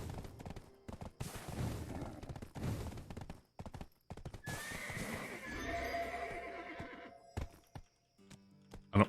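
A horse in the Black Desert video game whinnies loudly and its hooves clip-clop in quick bursts, mixed with game sound effects and short rapid pops, clear and close with no talking.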